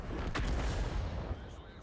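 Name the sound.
artillery shot in World of Tanks video game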